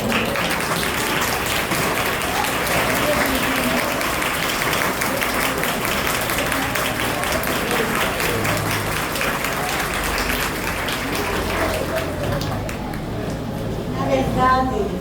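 A school audience applauds retired professors at a nursing school directorship inauguration ceremony, sustained loud clapping filling the room with a few scattered voices, the applause thinning slightly toward the end.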